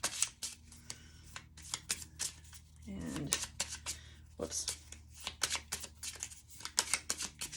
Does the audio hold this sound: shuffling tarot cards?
yes